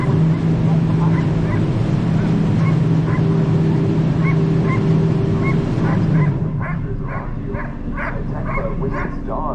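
Sled dog puppies bark repeatedly at a kennel stop on a riverboat cruise, the yaps rising over a steady boat engine drone while a voice talks.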